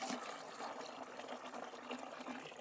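Faint, steady water pours into a container, about a litre, to mix a fertilizer solution for drone spraying, a continuous gentle splashing rush with no talk.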